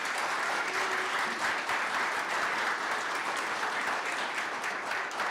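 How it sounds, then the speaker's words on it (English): A crowd at the UAA College of Engineering spring graduate celebration gives a round of applause for graduate students, a thick, even roar of many hands clapping continuously at moderate loudness, with no talk over it. "let's give a round of applause to our graduate students"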